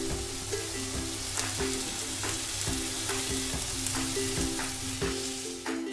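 Bottle gourd leaves wrapped around shrimp paturi fry in a pan over a raised flame, giving a steady, close sizzle with soft bubbling crackle throughout and no voices.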